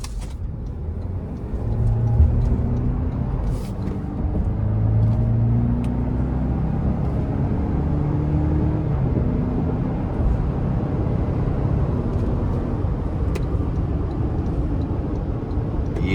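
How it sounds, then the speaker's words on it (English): 2025 Toyota Land Cruiser Premium with the i-Force MAX powertrain accelerating in sport mode, a steady low engine and road rumble that swells slightly early on, heard from inside the cabin without talking. "I took that corner and gave it some throttle because I was curious"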